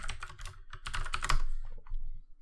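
Clattering computer keyboard keystrokes as code is typed into a Unity game script, a rapid irregular run of close, crisp clicks in short bursts with no voices.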